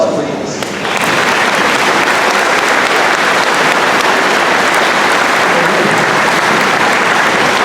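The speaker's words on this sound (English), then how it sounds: "Another round of applause, please." Sustained, dense applause from a large crowd at a 2016 graduation ceremony, loud and continuous after a brief quiet start, with a steady rain-like wash of many hands and faint voices mixed in.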